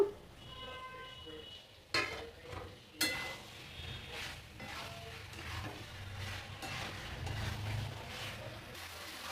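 Potatoes are tossed into a jackfruit and prawn curry in a pan: a couple of sharp clanks and drops, then a low steady frying sizzle with faint stirring scrapes, close and quiet.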